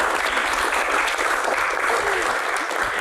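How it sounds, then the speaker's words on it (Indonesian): Sustained applause from a studio audience at the close of an Indonesian Q&A talk show, steady and dense clapping throughout at moderate loudness with no voices over it. "Tepuk tangan."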